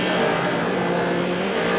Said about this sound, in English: And Bellum in the Sierra goes onto the grass